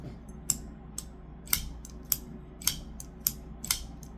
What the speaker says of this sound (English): It is a button lock, so the action is crazy good on those dual thumb studs.